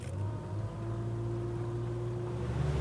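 Small 3-Area-19 boat with a 40 horsepower engine idling along at 2,000 revs, displacing at about 6 knots; a low, steady, fairly faint engine hum with no voices.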